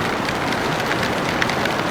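Heavy rain falls over a swollen river under low fog on a motorcycle trip in Alaska, a steady dense hiss of drops spread evenly throughout, with no talking.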